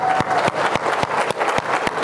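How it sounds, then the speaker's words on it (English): Goal-setting workshop participants applauding themselves, sparse, fairly loud individual claps in an uneven rhythm over a short burst, with a faint murmur of voices. "Give yourselves all a round of applause for working so hard."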